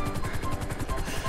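Helicopter in the GTA Online video game, its rotor thumping in a fast, steady rhythmic chop, moderately loud and alone for a brief moment.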